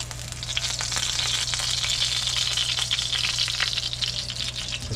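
Egg rolls with porcini mushrooms fry in very hot grease, a steady bright sizzle that stays close and even with no talking.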